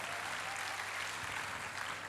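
A church congregation claps and cheers in praise during a sermon, a brief, even burst of applause filling the room with no talking over it.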